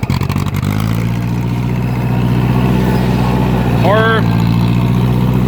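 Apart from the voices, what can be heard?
2010 John Deere gas tractor engine running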